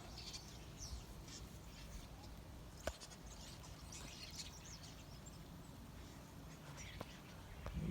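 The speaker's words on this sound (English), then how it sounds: "Yeah, lots and lots of starlings." A large flock of starlings chattering and chirping faintly in the distance, a continuous scattered twittering over low outdoor background noise with a couple of sharp clicks.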